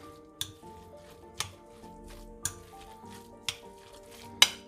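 Chopped cucumbers and dried mint are stirred together for an old-style Turkish meze, with a spoon scraping and knocking against the bowl in a steady rhythm of sharp taps about once a second, close and fairly quiet.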